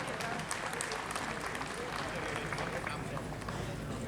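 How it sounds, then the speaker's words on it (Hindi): Audience applause at a government event where the Chief Minister hands out cheques, a steady dense crowd clapping throughout, moderately loud and continuous. "जोरदार ताली होनी चाहिए आप सबकी ओर से।"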